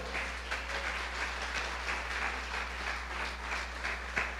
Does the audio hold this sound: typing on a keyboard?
no